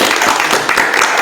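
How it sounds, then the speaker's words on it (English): An audience at an ISKCON mantra meditation workshop breaks into a dense, even round of clapping applause for a speaker, steady and fairly loud throughout the short stretch, with no talking. "Let's give a big round of applause to His Grace."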